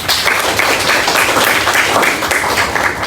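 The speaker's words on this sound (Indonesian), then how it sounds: "Kita berikan aplaus untuk teman-teman." Sustained applause from an audience of classmates in a polytechnic lecture setting, a steady dense patter of clapping hands lasting a few seconds, loud and close, with no talk over it.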